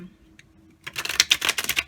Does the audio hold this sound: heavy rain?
no